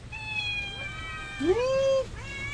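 A cat being fed at home meows steadily in a couple of drawn-out calls, close and clear over faint background household sounds.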